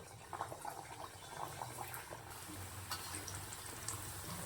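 Pieces of kaja sweet dough are slipped one by one into hot oil over a medium flame, giving a soft, bubbling fry with faint crackles and small pops close by.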